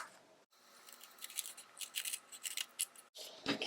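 Scissors cut blue and lighter-colored paper feathers for a pinecone turkey craft, several stacked sheets at a time, giving a run of close crisp snips and rustles with a short pause partway through.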